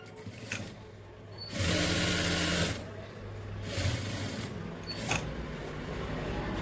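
A sewing machine stitches a seam on a loose pant pocket in a short, loud burst of whirring, followed by quieter intermittent runs and handling noise.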